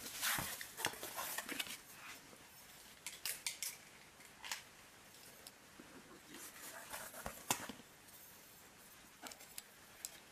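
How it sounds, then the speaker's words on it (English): Scissors snip cardboard into narrow strips in repeated crisp cuts with pauses between, close and fairly quiet, no talking. "I'm going to be cutting the cardboard into 2 centimeter wide strips"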